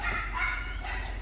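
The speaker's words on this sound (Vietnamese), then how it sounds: "Xem phản ứng của hai con chó ở nhà nhà nhé." Two pet dogs at home yip and whimper excitedly as their owners return after four days away, close and fairly loud, a short burst of high yelps with no talk.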